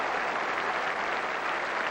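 Sustained applause from a huge crowd at Old Trafford cricket ground during a Lancashire v Yorkshire NatWest Trophy semi-final, a dense, steady wash of clapping that holds evenly throughout.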